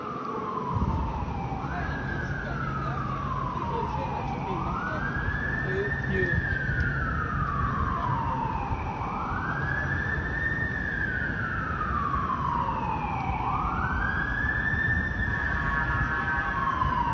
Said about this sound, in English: I'm hearing sirens right now.